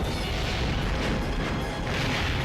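Explosion in the Action Man Mission Xtreme video game, heard as a loud, dense, continuous rumbling roar that fills the whole moment with no distinct separate blasts.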